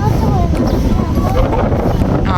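Strong wind blows outdoors in the evening, buffeting the microphone with a constant low roar. Voices talk over the gusts.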